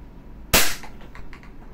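A single sharp crack from a WE Glock 17 Gen 3 airsoft pistol firing a 0.20 BB during a velocity test, loud and near, with a brief fading rattle afterward.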